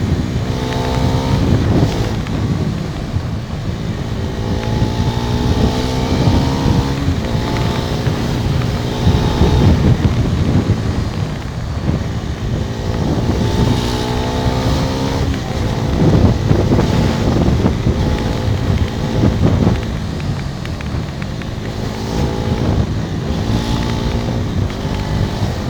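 Bajaj Pulsar NS400Z motorcycle ridden hard at speed, its engine rising and falling in repeated acceleration pulls under heavy wind rush buffeting the microphone.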